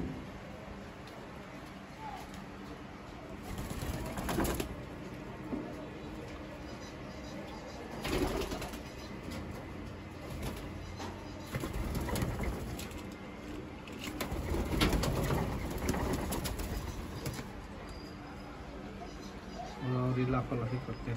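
Australian doves cooing in their colony, soft repeated coos with occasional wing flaps and bird calls, heard close under ongoing talk.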